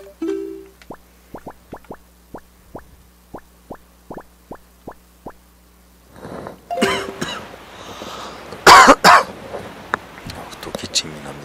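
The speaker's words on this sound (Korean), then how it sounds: "또 기침이 납니다." A person coughs in a few harsh bursts, with soft speech nearby, after a run of evenly spaced clicks from a Zelda Wind Waker video game.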